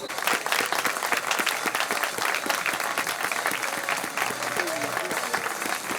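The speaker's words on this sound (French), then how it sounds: "On peut l'applaudir effectivement" A crowd applauds at a women's horse-ball match between France and Great Britain at Lamotte-Beuvron, loud sustained clapping with sharp individual claps and voices mixed in.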